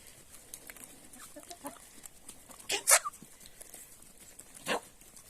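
Chickens make a few scattered clucks and squawks in a village yard, one louder burst standing out, over a quiet outdoor background.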